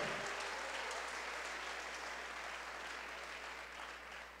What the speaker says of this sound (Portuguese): dê uma forte salva de palmas para ele